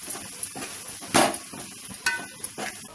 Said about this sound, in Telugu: ఇప్పుడు దీన్ని కలపాలి.